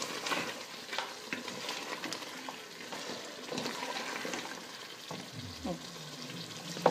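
Butter and oil heat in a pan on full flame for a restaurant-style meat curry. A steady close sizzle runs throughout, with scattered clinks and stirring scrapes.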